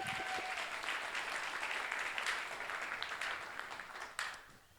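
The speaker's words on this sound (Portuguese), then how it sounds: "Vamos aplaudir o velho pela arte dele." Sustained applause from a church congregation honoring an artist, a dense steady wash of many hands clapping at moderate distance, with a brief faint voice early on and no clear speech over it.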